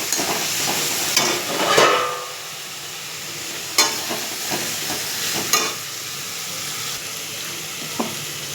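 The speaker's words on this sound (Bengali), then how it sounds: "জিরের গুঁড়ো, লবণ দিয়ে ভালো করে নাড়াবো" A spoon stirs river magur fish masala frying in oil with cumin powder and salt, a steady sizzle broken by a few sharp scraping clinks against the pan, with no talking.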